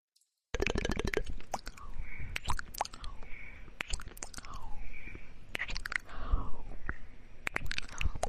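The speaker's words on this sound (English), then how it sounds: "I'm just chewing on a microphone." Close, wet chewing and biting on a microphone in an ASMR recording, with loud crunches, plops and squishy mouth sounds in an irregular rhythm after a brief silence at the start.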